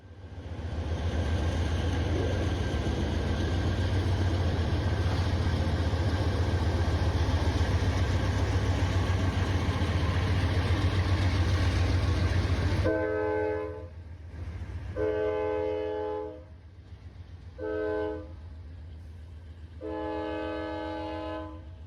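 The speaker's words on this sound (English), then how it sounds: "a loaded coal train rumbled by" A loaded coal train rumbles steadily past for a long stretch, then gives way to several separate horn blasts in short and longer bursts, heard from the hills with nobody speaking.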